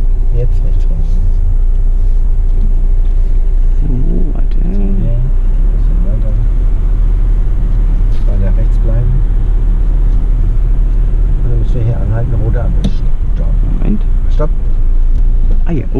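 A VW Passat driving with a steady low engine and road rumble throughout, close and constant, while people talk inside the car over it.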